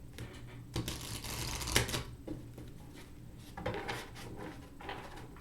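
Tarot oracle cards are shuffled in quick papery riffles and soft slaps, a few short bursts close by and fairly quiet.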